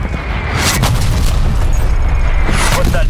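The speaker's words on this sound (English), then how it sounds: "Marking artillery targets." Artillery strike explosions from Call of Duty: Black Ops zombies mode hit in a loud, dense barrage of booms and bursts, several blasts rolling into one another.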